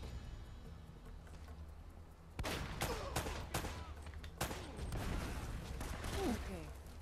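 Gunfire in Uncharted: Drake's Fortune: a low rumble gives way to a loud onset of repeated shots and bursts, fairly close, with crackling impacts and voices talking over it.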